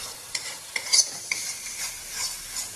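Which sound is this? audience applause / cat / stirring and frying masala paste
stirring and frying masala paste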